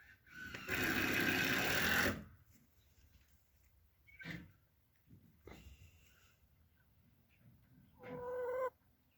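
Chickens kept as backyard poultry, with a loud squawking burst at the start, then a few scattered clucks and soft sounds, and a final short cackle, all fairly quiet with no talking.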